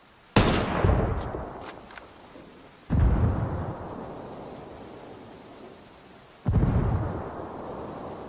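Three heavy grenade blasts in a video game, each a sudden loud boom with a long rumbling decay, spaced a few seconds apart.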